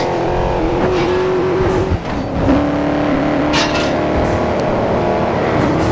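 An Audi car drifts with its engine revving hard, a loud, close, sustained drone that holds steady with a brief dip partway through.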